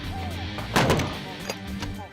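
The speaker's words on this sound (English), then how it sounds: "With a crack of gunfire, the attack commences." Gunfire cracks out as a military ground attack begins, with one loud sharp shot near the middle followed by fainter distant reports, over background noise and some voices.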